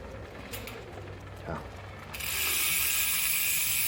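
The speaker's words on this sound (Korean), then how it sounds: "이렇게 또 라쳇 소리 또 가겠습니다" A gravel bike's rear hub ratchet clicks as the wheel freewheels, quiet mechanical ticking at first that swells into a dense, loud buzzing whir for the second half.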